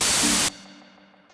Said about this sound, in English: Turn it to white noise.